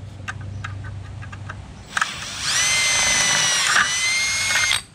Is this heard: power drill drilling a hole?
yes